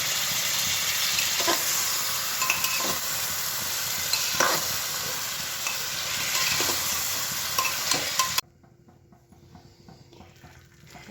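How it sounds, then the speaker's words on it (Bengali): Mutton and masala being stirred and fried in a pressure cooker: a steady sizzle with repeated scraping strokes from the spoon for about eight seconds, then a sudden drop to a much quieter background. "কুকারের মধ্যে মটনের মশলাটা দিয়ে দিয়েছি আর মটনগুলো এর মধ্যে দিয়ে দেবো"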